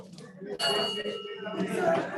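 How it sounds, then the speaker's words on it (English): A bright bell rings out with a sustained metallic tone, struck twice, ringing over a low murmur of background voices. "Ring the bell, ring the bell."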